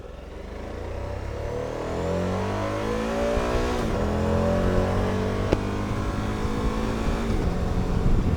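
Suzuki V-Strom 1000 V-twin motorcycle pulling away, its engine rising through the revs in stepped climbs between gear changes, loud and close throughout with no speech.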